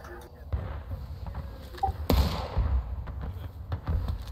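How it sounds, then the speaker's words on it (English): A distant gunshot in the Civil War game War of Rights, a single sharp crack around the middle amid thuds and ambient noise, with people talking nearby. "Oh shit, that's a gunshot."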